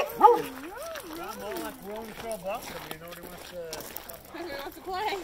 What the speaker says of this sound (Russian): Посмотрите, сколько собачек. Вот, собачки гуляют.